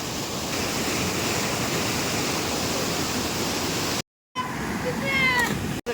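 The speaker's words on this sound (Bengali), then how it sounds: "জলের কি কোলাহল" A waterfall in a cashew forest gives a loud, continuous rushing roar of falling water that fills the scene, broken by a brief cut before the roar returns with a faint high chirping sound over it.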